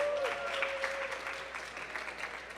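Applause from a conference audience at a DEMO 2025 studio panel, a steady patter of many hands clapping that fades slightly toward the end, with a brief tonal whistle near the start.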